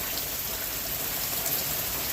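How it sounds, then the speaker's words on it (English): Steady rain falls on a wet countryside property, a dense, even hiss of drops close by that continues without pause. "it's another on again, off again rainy day, and right now it's on again"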